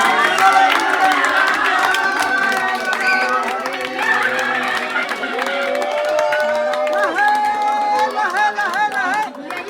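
Guests clap at a 55th wedding anniversary celebration, a steady patter of hands running under loud music throughout.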